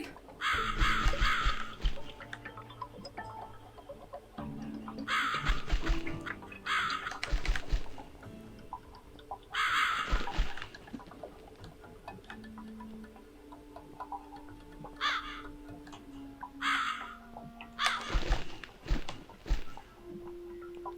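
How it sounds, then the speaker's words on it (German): A crow cawing in the horror game The Cat Lady, with repeated harsh caws in bursts over about twenty seconds, mixed with ticking and other eerie game sounds. "Sollen wir der Krähe folgen?"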